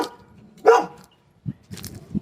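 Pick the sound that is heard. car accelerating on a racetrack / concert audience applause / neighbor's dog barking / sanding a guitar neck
neighbor's dog barking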